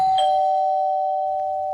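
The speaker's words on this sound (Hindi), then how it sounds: "और फिर 10 मिनट के बाद जब डोरबेल बजी" A doorbell rings once in a room: a bright two-tone chime that sustains and slowly fades, clear and close with nothing else heard.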